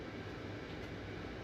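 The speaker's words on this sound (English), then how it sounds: "We move off under battery power only, and Rob explains" A Class 93 locomotive moves off light engine under battery power alone, giving a steady, broadband rumble and hum that stays level and fairly close throughout, with no voices.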